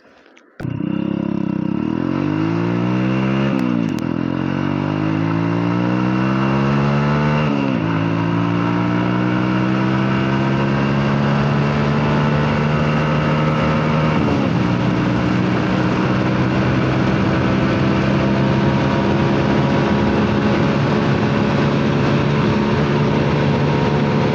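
A TVS Sport motorcycle engine revs loudly and continuously through the gears, climbing in pitch with each shift during a full-speed run, with steady road and wind noise up close.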